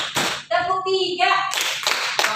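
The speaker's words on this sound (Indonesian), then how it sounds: "Tepuk 1 meja, tepuk 2, tepuk 2 meja, tepuk 3." Group in a seminar tapping and clapping on tables in a counted rhythm, a few sharp slaps and thuds separated by sung or chanted voices, loud and close.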